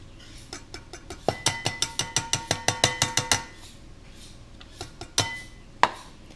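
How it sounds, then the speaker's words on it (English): A steel knife is stroked rapidly along a sharpener in the background, about a dozen quick, evenly spaced metallic rasps followed by a few louder isolated clinks and scrapes, with no talking. "sharpening some knives, getting ready to cut up some slaw"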